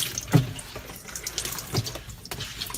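Wet laundry is squeezed by hand over leftover water from a KUPPET compact twin tub portable mini washing machine, giving soft close splashes and drips with a brief louder trickle near the start.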